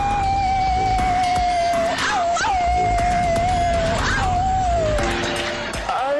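High wavering howls and whines from people imitating dogs at a religious revival meeting, sustained over a constant noisy backdrop, rising and bending in pitch several times.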